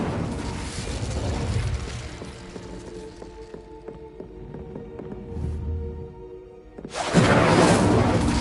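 Fire spell bursts in Hogwarts Legacy: a loud whooshing roar at the start that fades into quieter tonal magic effects, then a second loud fiery burst near the end.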